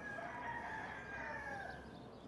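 A fighting rooster crows once in a long drawn-out call, heard fairly faint and at a distance over a quiet background, with no talk.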